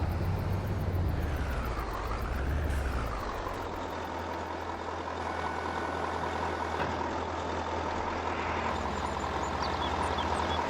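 A truck engine in Farming Simulator 22 drones steadily with a low rumbling hum and a faint high whine, a pitch sweep rising and falling early on, continuous and close throughout with no talk.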